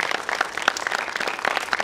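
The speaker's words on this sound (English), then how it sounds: "Give me a round of applause." A crowd at a youth football panel event applauds, a dense, continuous patter of many hands clapping at moderate volume.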